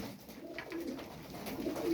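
Pigeons coo softly in short, low murmuring bursts at an evening bird market, fairly close, with a faint background hum.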